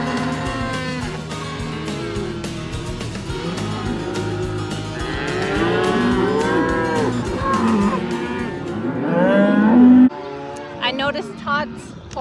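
A pen of calves held for branding on a ranch moos and bawls constantly, many overlapping calls near and far, growing louder toward the end, with people talking in the background.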